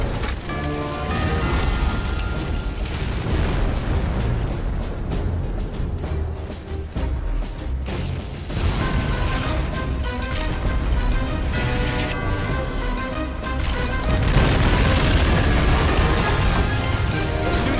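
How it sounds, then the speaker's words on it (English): Artillery preparation barrage in the war game Men of War: a dense, continuous roar of loud explosions and crashing impacts that swells and dips, with heavy booms rising again toward the end and no pause for the whole stretch. "Germans have begun artillery preparation fire."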